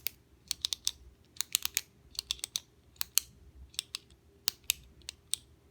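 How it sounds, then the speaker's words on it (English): A Sharpie S-Gel pen with a metal barrel clicked over and over, giving sharp, close, crisp snaps in an irregular series of single and paired clicks against a quiet background. "The clicking is the same, which is fine because I like the clicking as this."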